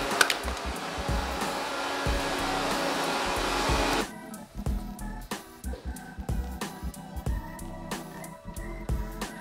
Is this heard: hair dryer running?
yes